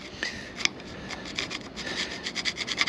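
Rough, rhythmic scrubbing and scraping strokes clean corrosion off a big stainless steel tube on a boat mast, close and fairly quiet, speeding up into quicker bursts toward the end.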